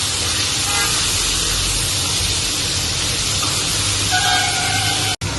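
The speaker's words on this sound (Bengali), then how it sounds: "চিংড়ি মাছটাকে আমি হালকা করে ভেজে তুলে নেব" Shrimp frying lightly in oil for a Bengali pui shak chingri dish gives a steady, close, broadband sizzling hiss throughout, with a brief dropout near the end.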